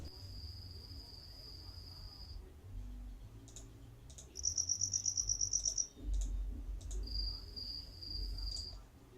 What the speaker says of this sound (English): I'm specifically looking for crickets here, and I've got several crickets to choose from